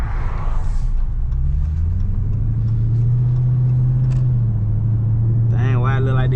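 A Dodge Scat Pack rumbles steadily through a wet parking lot, its engine a low continuous drone close to the microphone, with faint tyre hiss and a brief higher whine near the end.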